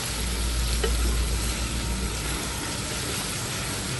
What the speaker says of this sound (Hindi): बीफ को भी हमने प्याजों के साथ अच्छे से फ्राई कर लेना है, भून लेना है